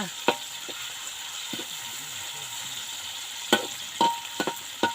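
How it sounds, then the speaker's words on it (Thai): Chicken stir-fried with holy basil for pad kaprao sizzles steadily in a hot pan, broken by sharp clanks and scrapes of a spatula against the metal. "ผัดกะเพราจ้ารอบผัดกะเพรา"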